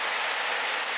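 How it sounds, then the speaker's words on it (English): Torrential summer rain pours down in a dense, steady hiss, loud and unbroken from start to finish. "Oh, the rain spoiled our plans."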